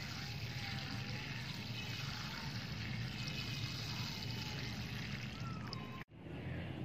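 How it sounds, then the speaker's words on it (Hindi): Steady running water pours and splashes continuously at close range over stock flower seed trays on a terrace garden, cutting off abruptly near the end. "तो अब हम इनके ऊपर पानी डाल देंगे"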